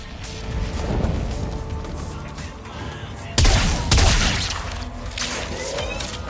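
In the video game Warframe, an explosion booms with crashing, tumbling debris, loud heavy impacts over a dense rumbling game soundscape.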